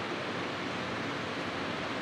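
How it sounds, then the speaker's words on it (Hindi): Rainwater from heavy rain leaking into a basement, a faint continuous broadband rushing and trickling hiss, steady and unbroken. "भाई ये देखो लीकेज हो रहा है यहाँ पे,"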